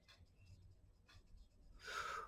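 Faber-Castell colored pencil scratching across coloring-book paper, a few short quiet strokes followed by a louder sustained scribble near the end, heard up close.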